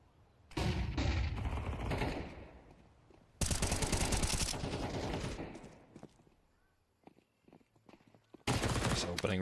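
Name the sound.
MP9 gunfire in the video game Counter-Strike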